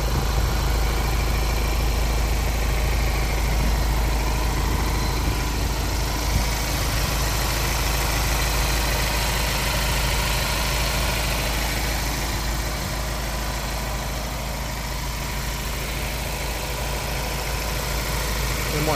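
Steady low hum of a Ford Ranger Wildtrak's 2.0-litre twin-turbo diesel idling, heard close in the engine bay, even and unbroken with no voices throughout.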